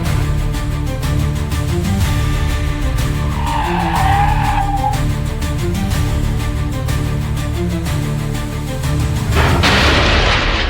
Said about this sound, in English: The road split apart and the car plunged straight into the depths